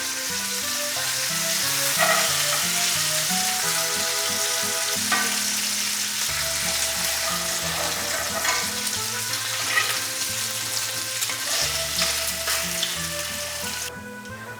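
Bacon fries in a skillet toward crispness, a dense continuous crackle and spatter with occasional stirring, heard close over soft background music for the whole stretch.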